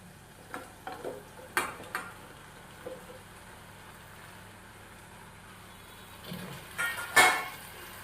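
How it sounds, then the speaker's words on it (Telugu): Pieces of drumstick vegetable are dropped into a cooked tomato curry in a pan, followed by a few soft clinks and stirring scrapes and a quiet background sizzle, with no talk. "ఇప్పుడు ములక్కాడ ముక్కలు వేసుకుందాం"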